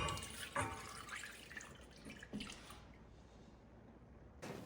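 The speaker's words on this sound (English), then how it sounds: "We need to tip 2 cups or 500 mils of milk into a medium saucepan." Milk poured into a medium saucepan, a steady liquid trickle with a couple of brief drips and splashes, fairly quiet and close, with no talk.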